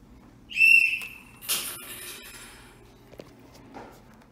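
A single short, shrill whistle blast sounds near the start, followed by scattered soft knocks, rustles and small clinks in a quiet room.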